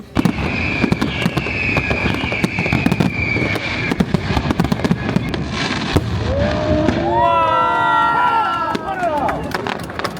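Fireworks pop and crackle throughout a display, with sharp bursts and rising whistling streaks near the end, heard alongside a chattering crowd and nearby voices.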